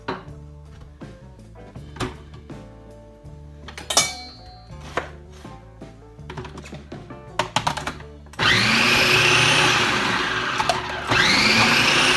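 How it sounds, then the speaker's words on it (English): A loud food processor coarsely grating zucchini roars continuously after a series of sharp knife chops on a board; the motor whine stays steady to the end. "I'm chopping up my zucchini so that I can grate it coarsely in my food processor"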